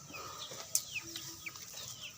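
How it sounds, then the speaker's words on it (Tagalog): Chickens on a farm clucking softly in the background, a few scattered short calls over quiet outdoor ambience. "Mga manok, oh."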